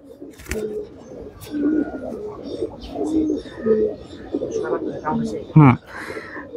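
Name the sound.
racing pigeon cooing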